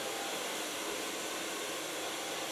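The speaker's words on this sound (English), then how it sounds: "Gonna blow dry the hairs" A hair dryer blows hair dry at a salon, a loud, steady, close-up rushing whoosh held without a break and with no talk over it.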